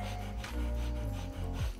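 Rapid, forceful Kundalini yoga breathing through the nose, rasping pumps repeating in quick succession, close and loud with no talking.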